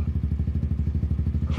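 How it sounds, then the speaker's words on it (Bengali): A motorbike engine thumps in a fast, steady pulsing rhythm close by, loud and continuous through the whole moment, with no speech over it. "এই ওই যে একটা বাইক আসতেছে"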